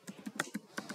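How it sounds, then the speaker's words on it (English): Rapid keystrokes on a computer keyboard as a developer types an npm command, a close, steady patter of about eight taps in one second with no voices. "I am typing npm axios library"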